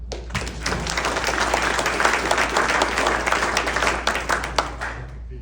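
Audience at a high school hall of fame induction breaks into applause, dense close clapping with distinct sharp claps over a low steady hum, sustained throughout.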